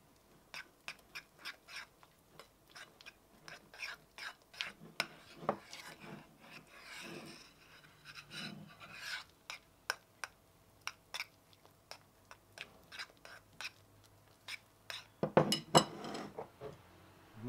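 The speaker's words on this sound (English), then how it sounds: "I'm going to mix that in." Spoon mixing cinnamon into protein oats in a bowl, giving a run of small, quiet clicks and scrapes at a steady pace, heard close, with a brief louder clatter near the end.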